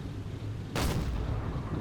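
A single sharp blast of naval gunfire from an enemy ship in the Silent Hunter 4 submarine game bursts out over a steady low rumble, then fades back into the background.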